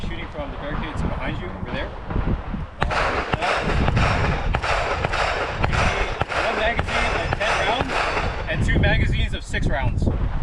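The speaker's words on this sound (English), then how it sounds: "we're going to be shooting from the barricades behind you over there" Pistol shots ring out from barricades at an outdoor shooting range in Hawaii, a rapid series of sharp, loud bangs clustered close together, with wind noise and voices in the background.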